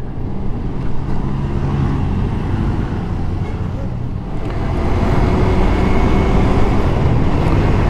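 A Royal Alloy Tigara Grande 300 scooter on a road ride, its steady engine drone mixed with heavy wind rush and road noise, growing slightly louder partway through, with no voices.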